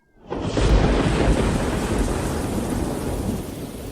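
Heavy rain pours steadily in an outdoor storm, with a deep thunder rumble rolling in and sustained roar filling the scene, loud and close, fading slightly toward the end.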